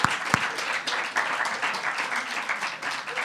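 A Sunday church congregation applauds, a moderately loud burst of mixed clapping with a couple of sharp close claps at the start, rising and falling slightly over its few seconds.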